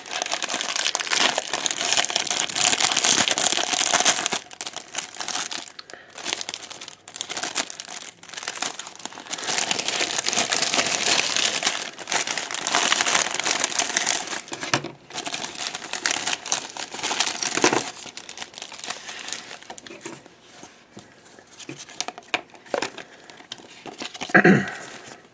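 A plastic toy packaging bag for a knock-off G1 Dinobot Grimlock figure crinkles and rustles continuously up close as it is handled and opened, in irregular bursts with brief pauses.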